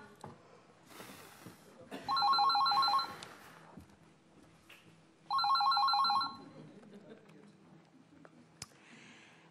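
An old-style telephone bell rings in two loud bursts of about a second each, with a pause between, over quiet room noise and faint voices.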